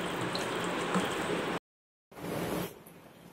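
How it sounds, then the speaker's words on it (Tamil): Water poured and stirred into rava adai batter, a wet, sloshing swirl in a bowl that stops abruptly, falls silent for a half-second cut, then resumes more quietly before tapering off. "நல்லா தண்ணி ஊற்றி நல்லா கரைச்சாச்சுங்க."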